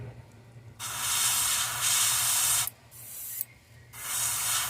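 An airbrush sprays custom paint over a stencil held on an S crank, giving steady close hissing bursts: a long spray, a brief softer stretch, a short burst and a final spray, separated by quiet gaps.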